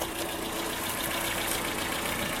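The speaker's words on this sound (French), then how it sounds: "pendant que le moteur tourne, c'est là que je vais vérifier s'il n'y a pas de fuite au niveau du bouchon de vidange" A Renault Clio I with a 1.4 engine idles just after an oil change, giving a steady, even mechanical hum with a fine ticking texture, close and continuous with no voices.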